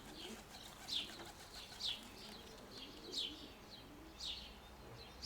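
A small flock of pigeons flying at low height, with soft wing flaps and faint chirps and coos recurring about once a second over a steady outdoor background.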